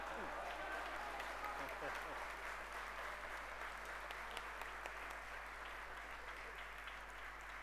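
A room claps steadily at a diploma of honour ceremony in the national Senate. The applause is a faint, continuous wash heard from a distance over a low electrical hum.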